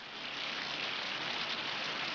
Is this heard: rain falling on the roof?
yes